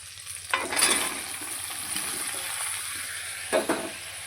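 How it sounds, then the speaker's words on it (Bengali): Vegetables tipped into a pan of hot oil with ginger paste sizzle steadily, with louder bursts of frying and a ladle stirring through them. No one speaks. "এবার সবজিটা ঢেলে দেবো"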